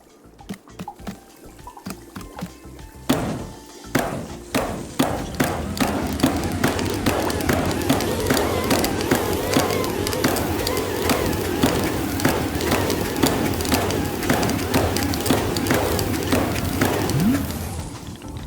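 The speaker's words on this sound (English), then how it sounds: "Pump the bellows while keeping the heat at exactly the right temperature." Bellows on a tea machine in the video game Wanderstop pump in a steady run of repeated thumping beats, loud and close, over a sustained bubbling, boiling-water bed that builds and holds to the end.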